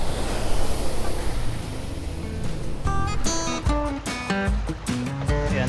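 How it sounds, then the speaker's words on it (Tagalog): Floodwater rushes across a road during a storm in a steady, loud broadband roar, and tonal music-like notes come in partway through and ring over the wash of water. "Bali napakadami ng tubig na nandito sa kalsada, umaagos"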